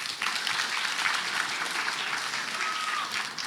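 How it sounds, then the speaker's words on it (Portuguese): Dense audience applause fills a tech talk hall, a steady wash of clapping from many hands that continues evenly to the end, with a brief cheer near the close. "Uma salva de palmas."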